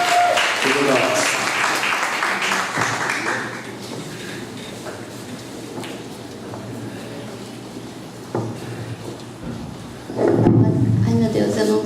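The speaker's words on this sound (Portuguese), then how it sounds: "Palmas, gente, palmas, isso aí. Palmas pra Geni." An audience at a Brazilian university event on affirmative action applauds for Geni, with a burst of clapping at the start and another swelling near the end, and speech in between.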